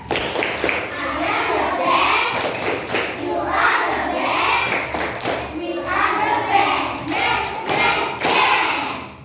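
A primary school class, 3C, performs the rhythmic 'tepuk the best' clapping chant. Loud patterned claps and thumps come in repeated bursts, with children's voices chanting along.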